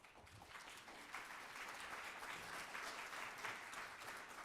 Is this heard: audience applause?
yes